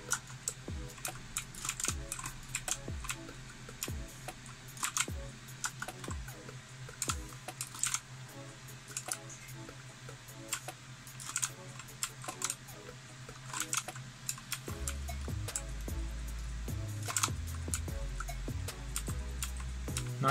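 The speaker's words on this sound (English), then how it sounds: "if you hear the keyboard, it's because it's really loud." Rapid clicking keystrokes on a mechanical keyboard, close and continuous with irregular bursts, over a low background hum with no talking.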